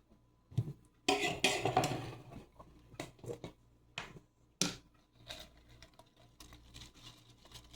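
Fresh kale being dropped into a crock pot of pinto beans and onions, with a series of close, crisp rustling and light clattering bursts separated by brief quiet gaps.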